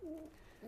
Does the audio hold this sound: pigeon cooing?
yes